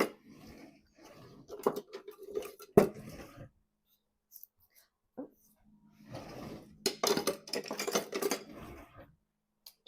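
A spoon stirring and scraping through homemade granola with Himalayan salt in a bowl, soft clinks and gritty scrapes in short bursts separated by quiet pauses, close and fairly faint, with no talking.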